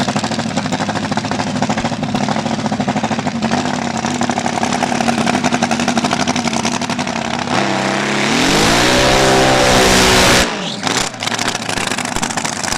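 A loud Billet Racing Engines dragster engine idles roughly, then revs hard with rising pitch before cutting off abruptly, followed by a brief sputter.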